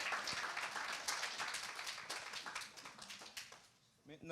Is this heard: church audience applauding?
yes